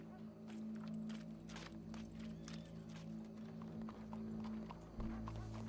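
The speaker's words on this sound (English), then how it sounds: "Go brush that horse, officer." A horse walks in Red Dead Redemption 2 with soft, faint clip-clop hoof steps, set over a steady low hum of background game sound.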